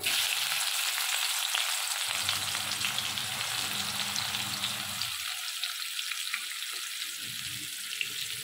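Onions go into hot oil already spiced with cardamom, cinnamon, cloves and dried chilli, giving a constant bright sizzle that swells into a fuller crackle as they land, close and without speech.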